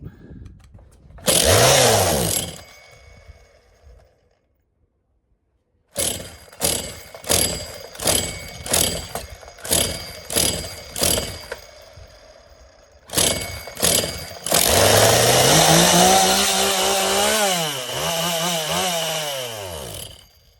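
Chainsaw salvaged from a trash pile being started: one short burst, a pause, then a string of rhythmic pull-start sputters before the engine catches and runs loudly nearby, revving up and down.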